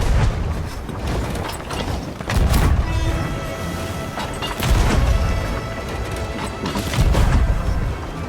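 Cannon fire from a sloop aimed at a brig in the Sea of Thieves video game: several heavy booming blasts spaced a couple of seconds apart over a constant rumbling ship and sea background.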